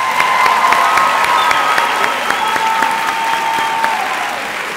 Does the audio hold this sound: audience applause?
yes